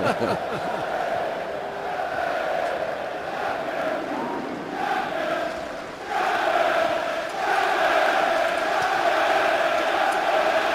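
A stadium crowd at a Manchester United versus Southampton Premier League match roars and murmurs continuously, swelling in waves with louder surges later, while a commentator talks over it.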